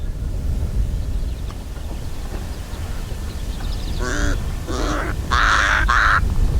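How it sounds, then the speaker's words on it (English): Pied crows caw in the open grassland, three or four harsh, fairly close calls arriving in a quick burst after a stretch of low background rumble. "And of course the ever-present pied crows."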